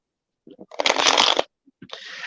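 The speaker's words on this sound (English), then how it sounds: "So I'm going to go ahead and shuffle." Tarot cards are shuffled close up, with a dense riffling burst of about half a second, a few soft taps before it and a second shorter rustle after, no talk.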